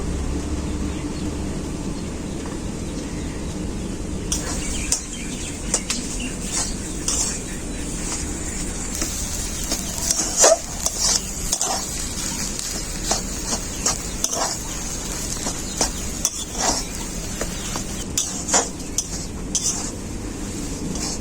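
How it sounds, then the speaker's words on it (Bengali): Spiced potato filling for alur chop being stir-fried in a pan, a steady low sizzle with repeated scraping and clinks of a spatula against metal, close and continuous with no talking. "আলুটাকে খুব ভালো করে মশলার সাথে কষিয়ে নিয়েছি"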